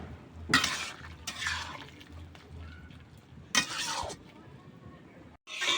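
Tripe simmers and is stirred with spices in a cooking pot, with bursts of sizzling and scraping stirs breaking over a low bubbling background, close up and fairly quiet.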